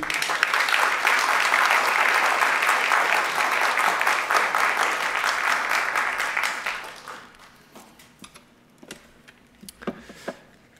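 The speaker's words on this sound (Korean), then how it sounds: "나오실 때 심찬 박수로 모시겠습니다." Church congregation applauds as the pastor comes forward, a loud full round of clapping for about seven seconds that fades quickly, leaving a few scattered late claps and quiet room noise.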